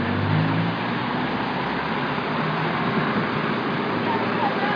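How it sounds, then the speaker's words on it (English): A dump truck's engine runs outdoors in a Honolulu street setting, a steady broadband motor rumble with road noise that holds constant throughout, fairly close and loud, with faint voices mixed in. "This is the dump truck."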